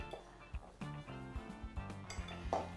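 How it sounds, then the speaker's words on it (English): A utensil stirs lemon zest into scone flour in a bowl, giving soft scrapes and several light clinks against the bowl, quiet and close. "now I'll just mix that zest through"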